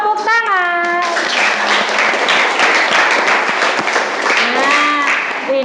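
A classroom of students breaks into brisk, close clapping that fills most of the moment, with children's voices calling out at the start and end.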